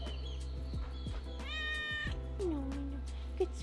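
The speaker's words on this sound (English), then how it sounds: "I guess this cat is showing us the way." A small, fluffy cat on a Guatemalan coffee plantation gives a few soft, close meows, one higher and drawn out and another short and rising, against a quiet background with no talking.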